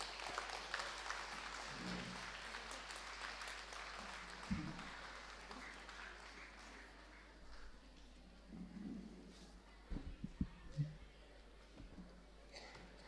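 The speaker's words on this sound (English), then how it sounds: "A loud round of applause for Gurumurthy ji." Faint, distant applause from an audience continues steadily, with a few soft thumps and murmurs near the end.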